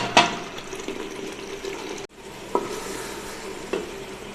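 Minced meat (keema) for a Bihari keema dish frying and sizzling in a pan, a steady close hiss with a few sharp stirring clinks and scrapes, no talking.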